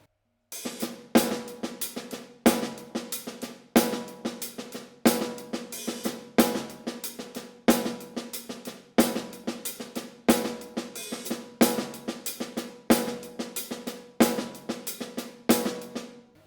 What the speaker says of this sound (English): there's actually an open hi-hat on the 1, on the downbeat of 1, and it closes on the and of 1.